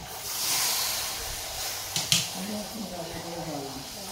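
Hot water is poured onto spice paste that is being fried in a home kitchen, giving a steady broad hiss with a sharp sputtering burst midway, then a softer simmering sizzle. A voice is faintly audible toward the end.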